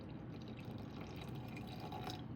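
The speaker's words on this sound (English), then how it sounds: "we're just gonna dump some of this water in" Filtered water poured into a sourdough starter, a soft continuous trickle and splash with faint dripping, close and quiet, with no voices.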